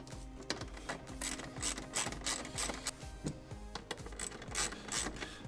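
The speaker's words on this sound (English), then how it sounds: "Go ahead and tighten it all down." A ratchet tightening bolts while installing a subwoofer box in a vehicle, giving rapid close clicking in repeated bursts with short pauses, and no talk.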